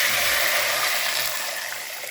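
Water gushes steadily into a cooking pot for Egyptian koshari, a loud close broadband rush that holds for about two seconds and eases slightly at the end, with no talking.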